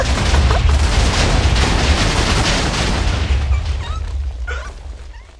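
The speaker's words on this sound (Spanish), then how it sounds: "¡Que explota, que explota, que explota!" A TNT explosion in a video game: a loud, close, rumbling blast that roars steadily before fading out over its last seconds.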